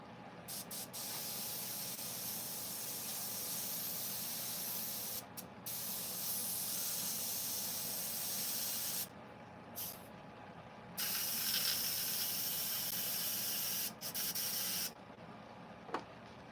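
Airbrush spraying paint onto finished chainsaw-carved wooden pieces, a steady close hiss that runs almost continuously with a few brief breaks and trigger pauses.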